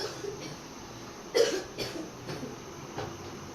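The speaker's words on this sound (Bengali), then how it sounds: "ওরও ঠান্ডা লাগছে খুব খুব খুব খুব করে কাশতেছে" A child coughs several times in short, separate bursts, close by, with quiet pauses in between.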